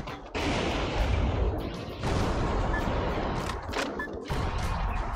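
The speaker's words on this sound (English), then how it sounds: "Takes a couple rockets." Rockets firing and exploding in the mech action game Metal Wolf Chaos XD, with dense continuous blasts and rumbling detonations, loud and close, and sharper bursts near the end.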